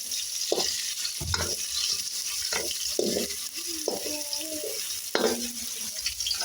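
Onions and garlic fry for egg kottu, a steady close sizzle with a spoon stirring and knocking in the pan at irregular intervals.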